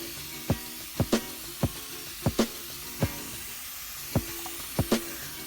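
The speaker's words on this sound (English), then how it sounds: "Gotta spray down the emeralds really good this time of year." Sharp hissing bursts of a handheld spray bottle misting emerald tree boas in their enclosure, about a dozen quick squirts in an irregular rhythm, close and fairly quiet with faint room noise between.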